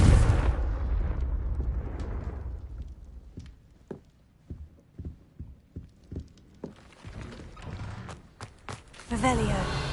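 A Confringo fire spell bursts in Hogwarts Legacy inside an underground spider cellar, a loud blast opening the clip and fading, followed by a run of sharp scattered impacts and a renewed roar near the end.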